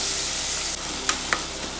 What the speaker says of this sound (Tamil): சேர்த்துட்டு நல்லா வதக்கி விட்டுக்கோங்க.